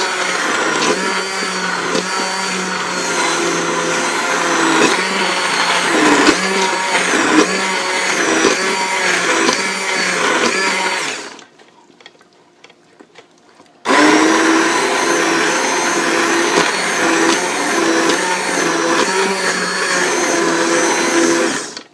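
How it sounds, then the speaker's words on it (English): An immersion blender grinding lasagna sauce whirs loudly and steadily, pauses briefly to near silence, then starts again at full, churning drone. "Now we'll use our immersion blender to grind up"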